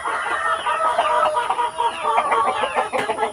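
Several chickens cluck busily at close range in a yard, with overlapping clucks and calls. A faint steady high tone runs beneath them.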